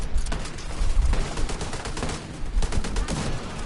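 Rapid gunfire in The Division 2 at the Air and Space Museum, a steady stream of crisp close shots with punchy bass thumps, loud and continuous over the game's ambient noise.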